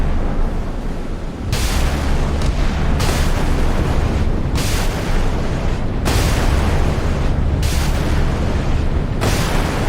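Phalanx CIWS close-in weapon systems on warships in the naval combat game Sea Power fire in long, loud, continuous bursts, with roaring blasts separated by brief gaps and heavy low rumble throughout.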